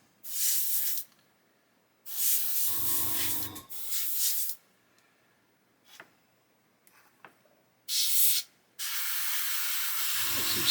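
An airbrush spraying silver paint onto wheels of an Airfix 1/72 Hurricane Mk.1 model, in several separate hissing bursts of about a second or longer with quiet gaps, close and clear with no talk.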